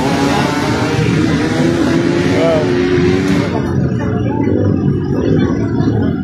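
Several motorcycles rev at a crowded fan gathering, a loud continuous engine roar with rising and falling pitch that fades partway through, while people talk and exclaim over it.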